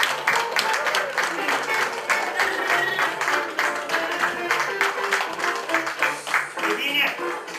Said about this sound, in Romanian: Aplauze lui Anișoara.